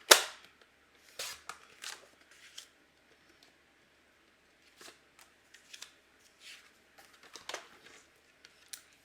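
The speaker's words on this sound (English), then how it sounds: "Now let's bring in our trimmer and go ahead and trim up our cardstock." A paper trimmer slices cardstock for handmade cards, giving sharp close clicks and short swishes, a loud snap at the start and then scattered bursts with quiet gaps.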